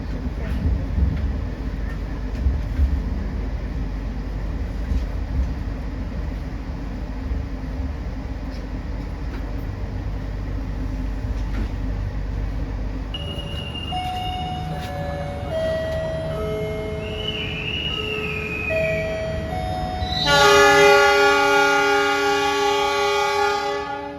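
Steady low rumble and rattle inside the KA Jayabaya economy-class passenger train running from Malang to Surabaya, heard close and continuous, with musical tones coming in over the second half.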